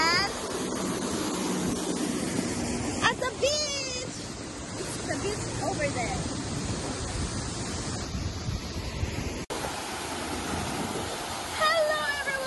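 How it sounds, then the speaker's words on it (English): A waterfall in Hong Kong rushes in a constant broadband roar that fills the scene, with a person speaking over it and some wind buffeting on the microphone. "I'm gonna show you the waterfalls in Hong Kong"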